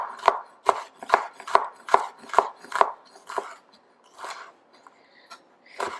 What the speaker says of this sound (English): We're just going to give this a pretty rough chop here.